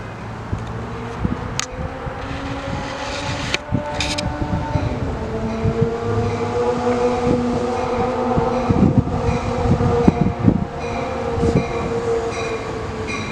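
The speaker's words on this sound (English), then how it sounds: "P42 and an Amtrak. Going north to, I think he's going all the way to San Luis Obispo." An Amtrak train hauled by a P42 locomotive passing at Fullerton: a loud, steady rumble and clatter of wheels on rails with sustained engine drone, occasional squeals and clanks, nearby and continuous throughout.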